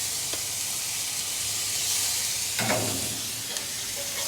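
Olives and tomatoes sizzle and hiss steadily in a pan on a stovetop for a vegetarian toast filling, with a few brief stirring scrapes and clicks partway through; no one talks.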